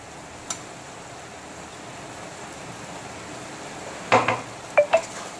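Lotte fish is stirred with dry roasted ground spices in a pan, a faint steady sizzle broken by a few sharp utensil scrapes and clinks near the end, close up, no talking.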